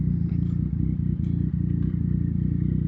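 A Yamaha Tracer MT-09 motorcycle engine runs close by, a steady, pulsing idle with light clatter on top, and no speech over it.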